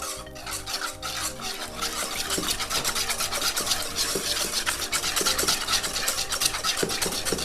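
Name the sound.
mixing eggs into choux pastry dough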